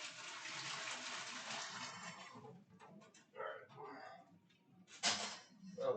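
Water running from a kitchen tap while cooking, a steady close rush for about two seconds that then stops, followed by soft speech and small kitchen clatter.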